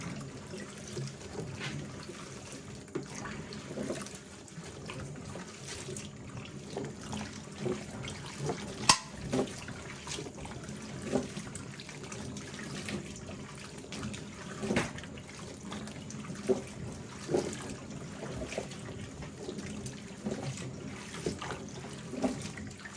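Picked beans being washed by hand in warm water filling a sink, with steady splashing and swishing water and occasional sharper clinks and knocks, close by and with no one talking.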